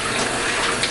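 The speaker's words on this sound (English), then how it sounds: "Give them a quick rinse first." Sink tap running over meat chops being rinsed, a brief steady hiss of flowing water heard close up.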